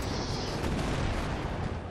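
Tank firing its main gun while advancing in the World War II strategy game Company of Heroes 2, as a continuous battle din of cannon and gunfire booms under steady rumble, no voices.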